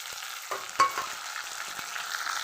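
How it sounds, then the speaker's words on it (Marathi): Tomatoes go into a hot pan for a village breakfast dish and fry with a steady close sizzle, with a few soft stirring knocks and no voices. "यामध्ये टोमॅटो टाकून घेते"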